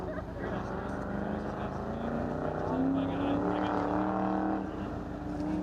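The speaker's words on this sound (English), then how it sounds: "here goes the lonely STP car in the class" An STP class car makes an autocross run, its engine droning steadily and rising in pitch midway, heard under continuous talking.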